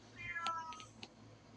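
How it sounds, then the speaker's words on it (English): A cat meowing faintly in the background indoors, a couple of short quiet mews over low room hum. "that's one of my cats acting up"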